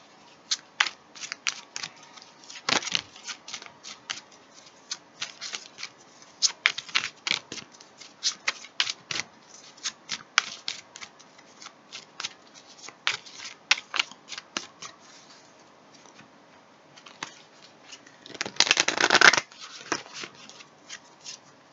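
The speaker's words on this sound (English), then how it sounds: "Now, let's pull some more cards." Tarot cards are shuffled close up in quick, papery bursts of flicks and slaps, broken by short pauses. Near the end a longer, denser riffle sounds, all with no talking.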